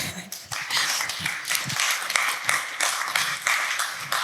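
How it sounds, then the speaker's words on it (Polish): Loud, dense audience applause at a tech conference talk fills the room with continuous clapping, steady and sustained throughout with no voices over it. "Jeszcze raz gromkie brawa."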